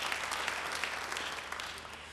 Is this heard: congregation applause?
yes